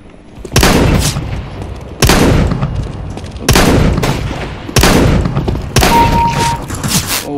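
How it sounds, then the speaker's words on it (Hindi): A shotgun fires five loud, booming blasts in Counter-Strike: Global Offensive, spaced about a second apart, each followed by a ringing decay and reload clatter. "अपन को मिली अब शॉटगन। चलो इससे ट्राई करते हैं"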